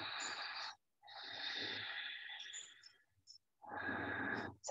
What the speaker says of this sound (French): Ça fait un peu le bruit d'un océan. C'est comme si on contractait l'arrière de la gorge.